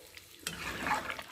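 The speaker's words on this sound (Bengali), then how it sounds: "ঘেঁটে দিই।" Stirring a cauliflower and bori curry with added water in a pan: a short, soft scrape and wet sloshing rising after a brief quiet moment, close and gentle.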